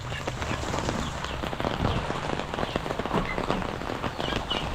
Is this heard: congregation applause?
no